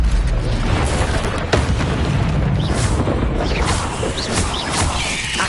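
Incendio fire spell blasts in the Hogwarts Legacy video game, a dense run of booming, crackling bursts layered with whooshes, loud and continuous with no talk.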